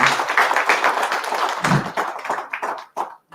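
A live launch audience claps and cheers, a dense spread of hand claps that thins out and breaks into scattered claps toward the end.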